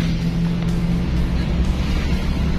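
A 1970s Toyota Corolla KE20 classic car drives along with a steady, loud engine drone and road rumble heard from inside, no voices present.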